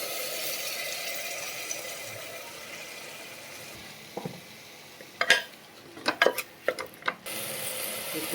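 Uncooked rice goes into a pot for dal khichdi, with green chillies already in: a few scattered clinks and scraping rattles against the pot over a low kitchen hiss, close by, with no talk.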